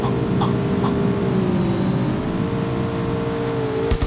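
Motorcycle engine in the mobile battle-royale game Rules of Survival, a steady droning motor hum holding at a constant pitch throughout, fairly loud and continuous, with no talk over it.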